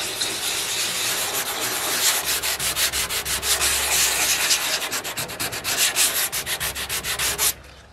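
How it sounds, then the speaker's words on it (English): Close, steady sanding scuffs low spots in the filler on the hood of a Mercedes W108 4.5, a dense abrasive hiss that turns into fast rhythmic back-and-forth strokes before it stops abruptly. "So we do have to scuff up now these low spots because the filler won't attach properly to guide coat"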